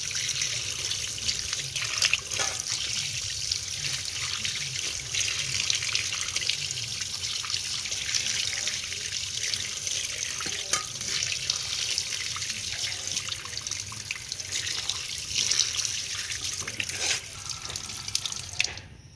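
Fish, cut up and full of roe, rinsed under a running kitchen tap, water streaming steadily with small splashes and clinks throughout, no voices.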